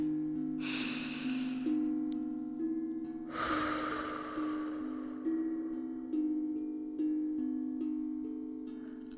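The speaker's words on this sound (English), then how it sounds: "Breathe with me" Two slow, deep breaths, one early and one midway, drawn softly over sustained tongue drum tones during a guided meditation set in an imagined faerie forest.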